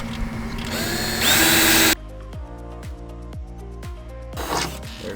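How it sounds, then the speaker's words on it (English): A power drill with a 1/4-inch bit whines loudly for a couple of seconds drilling holes in an ambulance body, then stops, followed by a series of sharp, rhythmic clacks and knocks nearby. "There's the drill."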